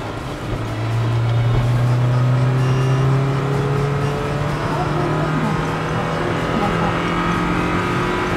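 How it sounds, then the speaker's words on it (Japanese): Engine of a Toyota TownAce camper van accelerating while merging onto a highway in rain, a loud sustained drone rising steadily in pitch through the gears, heard from inside the cabin. "で今から合流しますんで加速のタイム計測します"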